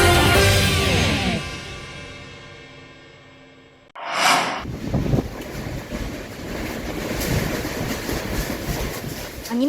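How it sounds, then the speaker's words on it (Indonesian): Whirlwind gusts tear through an open market in Takengon, Aceh Tengah, a loud roaring rush of wind that fades, breaks off, then returns with a sharp burst and steady turbulent noise. "Angin puting beliung menerpa pasar Impres Kota Takengon, Kecamatan Lutawar, Kabupaten Aceh Tengah pada Senin sore."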